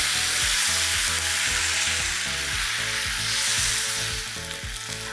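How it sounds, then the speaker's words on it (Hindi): Tomatoes added to translucent onions in a pan, sizzling loudly and continuously up close while a spoon scrapes and stirs in a quick repeating rhythm. "अब इसमें हम डालेंगे हमारे टमेटोज़।"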